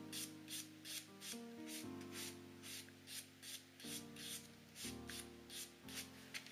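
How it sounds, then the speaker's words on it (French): A nail buffer is rubbed back and forth over a fingernail, giving soft rhythmic scratchy strokes in repeated short bursts, close up and fairly quiet, with steady musical tones playing underneath. "je vais prendre mon buffer et je vais venir passer sur mon ongle"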